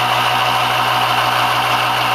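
A James Zero Force motor runs at steady speed, a loud, even, continuous whine and hum with no breaks and no voices.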